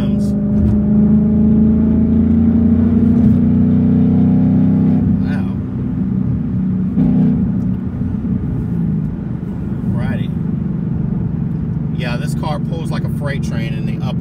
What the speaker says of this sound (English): This car pulls really hard in the higher RPMs.